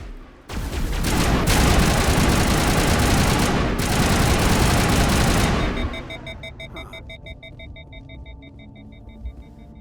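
Weapons firing in the video game Mass Effect, a loud, dense burst of rapid gunfire for several seconds that cuts off and gives way to quieter electronic beeping tones.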